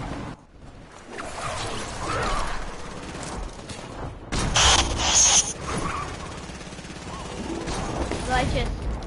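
Video game gunfire with bursts of automatic shots and mechanical clatter, loud around the middle then ongoing at moderate level, mixed with other game effects.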